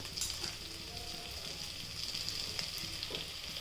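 Drumstick flowers frying in a small amount of oil, a soft, steady sizzle with faint crackles, quiet and continuous with no talking.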